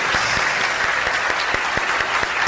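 Applause from a group at fairly close range, made of dense rapid hand claps forming a steady burst for a couple of seconds.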